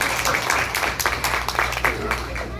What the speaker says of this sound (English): Please give a round of applause to Nimesh Kedari.